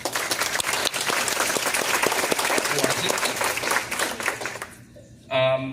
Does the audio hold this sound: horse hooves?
no